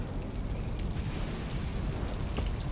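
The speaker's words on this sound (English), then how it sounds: "You summoned the rain." Steady rain falling in a dense, even hiss, fairly quiet and continuous throughout with no voices over it.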